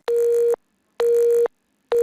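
Telephone busy tone heard after a call is hung up: three evenly spaced, loud steady beeps of about half a second each, separated by silent gaps, with nothing else in the background.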